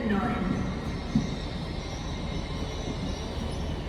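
A Northern passenger train departs Newcastle station for Metro Centre, a steady low rumble of wheels and engine close by, with a brief squeal or clank near the start.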